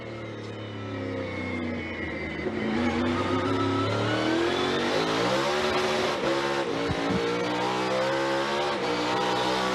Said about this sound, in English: Through turn 12, and Martin masters Sonoma